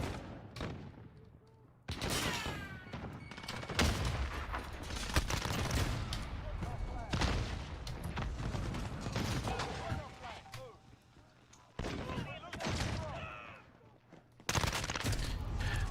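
Bursts of automatic rifle fire in Modern Warfare, rapid rattling volleys with brief gaps between them, loud and close over game sounds, with a player's voice speaking at times.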